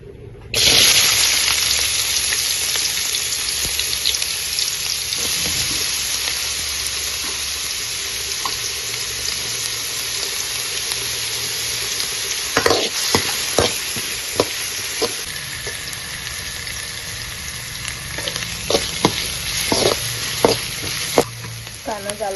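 Chopped onion dropped into hot oil bursts into a loud, close sizzle that settles into steady frying, with clusters of scraping stirs and clinks toward the end.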